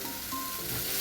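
Ground spices with red chilli powder and salt are sautéed in a pan, giving a brief, steady, close sizzle without any speech.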